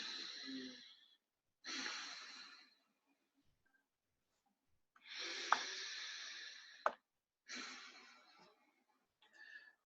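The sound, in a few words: slow deep breathing during guided breathing exercise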